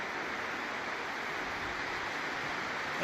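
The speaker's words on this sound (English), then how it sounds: "I doubt you'll hear much here because the river's too noisy" A noisy river rushes in a steady, dense broadband roar, close and constant, with no voices over it.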